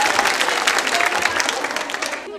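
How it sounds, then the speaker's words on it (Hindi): Students at a B.Ed. girls' college Holi quiz show keep up a dense, even roll of clapping, moderately loud and unbroken, with a voice talking over the applause. "तालियां तो जोरों से बजनी चाहिए"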